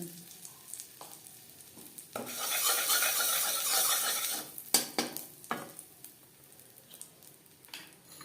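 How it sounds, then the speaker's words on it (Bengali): Asafoetida dropped into hot mustard oil in a pan bursts into a loud sizzle that hisses for a couple of seconds and then fades. A few sharp utensil clinks and stirring scrapes follow. "সামান্য পরিমাণে সরষার তেল গরম করে নেওয়ার পর দিয়ে দিলাম হিং"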